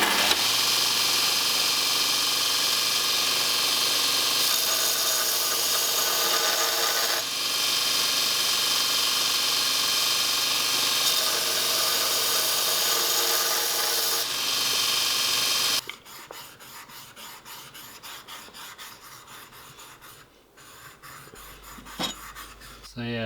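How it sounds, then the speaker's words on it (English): A bench grinder regrinds the bevels on a carving axe, giving a steady, loud, continuous rasping whine that runs unbroken for about sixteen seconds, then cuts off abruptly into quiet with a few small handling noises. "So I'll take it to the grinder and put those bevels back in."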